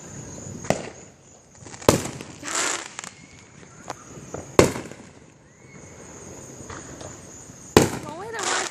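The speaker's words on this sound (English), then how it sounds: "Start doing fireworks again." Fireworks go off during a thunderstorm as a series of sharp, loud firecracker-like bangs and crackles at irregular intervals, with a steady hiss of rain or insects behind and people talking between the blasts.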